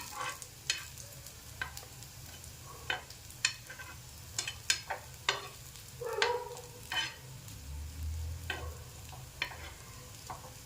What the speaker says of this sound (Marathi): तुम्हाला हवं असेल तर तुम्ही डीप फ्राय करू शकता, परंतु अशी शॅलो फ्राय केली तरी ही खूप छान लागते वडी.